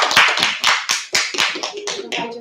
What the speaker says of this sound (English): let's give him a clap.